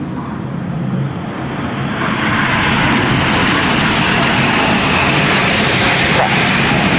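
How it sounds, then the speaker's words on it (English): A Red Arrows BAE Hawk jet performs a solo display at the Eastbourne International Airshow, giving a loud, steady, broadband jet roar that swells slightly and holds for several seconds with no speech over it. "There's a lone jet. That's Red 9, who's now going to fly the Goose."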